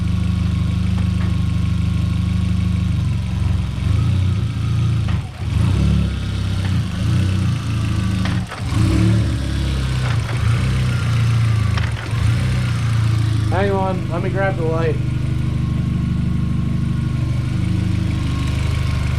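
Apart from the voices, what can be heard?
VW MK4 Jetta 1.8T engine running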